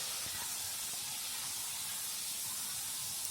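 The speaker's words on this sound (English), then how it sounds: "And then we fry and brown the onions." Onions frying and browning in hot oil in a pan, a steady dense hiss of sizzling that holds unbroken and fairly loud throughout.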